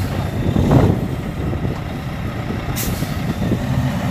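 A big rig truck with its back wheels spinning while stuck in snow gives a steady, loud, low engine roar that strains on without a break, with a brief hiss near the end.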